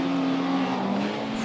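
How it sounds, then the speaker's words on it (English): A rallycross race car engine at a Lithuanian round, loud and steady with a droning, buzzy tone that holds nearly constant, as if from a single car passing close. "Frankly, a horrible sounding car."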